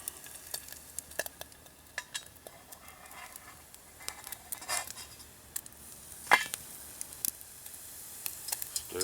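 Food frying in grease in a pan at an outdoor woodland campsite, with the grease starting to darken. A steady crackling sizzle runs throughout, broken by scattered scrapes and metallic clinks of a utensil stirring against the pan.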